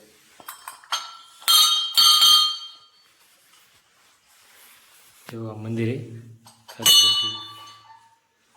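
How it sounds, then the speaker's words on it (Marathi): Bells hung overhead in an old Ram temple at Ramdara, Waghi, ring in bright metallic strikes, a few clustered early and one more later, with someone speaking briefly between them. "हे बघा वर घंट्या कशा लावल्यात"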